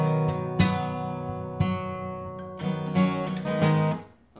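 An acoustic guitar tuned a half step down plays a song: a handful of strummed chords with sharp attacks, ringing close and clear, the last chord fading out; no voices.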